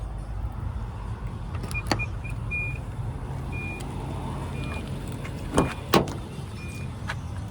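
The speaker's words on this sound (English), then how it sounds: "Power folding third row seats." Power-folding third-row seats in a 2017 Infiniti QX80 signature trim, with a low steady motor hum, an intermittent thin electric whine and a few sharp clicks and clunks near the end.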